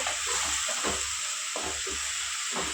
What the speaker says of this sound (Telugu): అది వేసుకొని బాగా ఫ్రై చేసుకోవాలండి. బాగా వేగాలి నూనెలోనే.